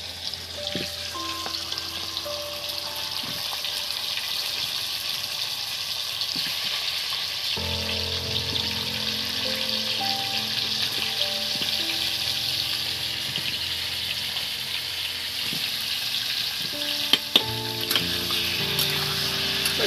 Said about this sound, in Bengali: তেলের একদম। মধ্যে দিয়ে দিচ্ছি বন্ধুরা এই কেটে রাখা ধুয়ে রাখার আলু